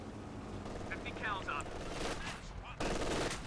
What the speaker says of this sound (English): So 50 cal starts going after Schnappy's unit right here